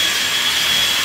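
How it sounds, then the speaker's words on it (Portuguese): Wood being sanded nearby, a continuous loud, hissing, high-pitched whine that stays steady throughout. "Esse barulho que você está escutando é do meu cunhado lixando ali"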